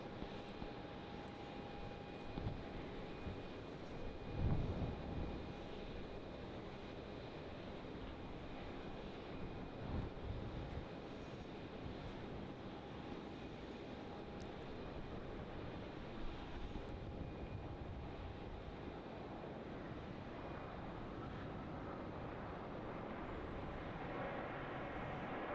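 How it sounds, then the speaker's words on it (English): A Cathay Pacific Boeing 777-300ER lands at Melbourne Airport, its distant engine roar a steady broad rumble with faint tonal whine, swelling slightly early on and holding through the rollout, no voices. "This is Cathay, the 777-300ER."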